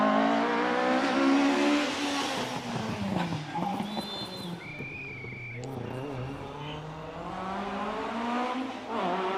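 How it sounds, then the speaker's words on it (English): A Ford Escort RS 1600 races up the Prescott speed hill climb, its engine revving hard and dropping through gear changes, passing fairly close, with a brief tyre squeal partway through. "Simon Braithwaite is on his way in the RS 1600."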